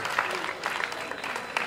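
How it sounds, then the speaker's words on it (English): An audience claps at a celebration event, a moderate, somewhat distant patter of many hands with a few sharper claps standing out. "I ask that you give God a round of applause for these great men and women that He gave to us."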